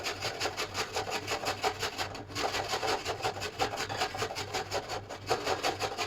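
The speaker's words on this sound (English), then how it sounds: "So now we're going to grate your carrots." Carrots are rubbed against a grater for coleslaw, making a rapid, regular rasping scrape that repeats in quick even strokes, close and fairly quiet, with no voices.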